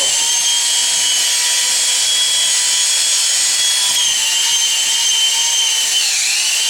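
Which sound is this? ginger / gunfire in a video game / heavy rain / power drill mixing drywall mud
power drill mixing drywall mud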